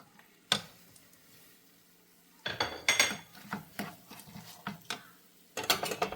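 Fried soya chunks tipped into a pan and stirred for pickle, a single clank followed by a quiet pause, then a series of close metallic scrapes and knocks of a spoon against the pan.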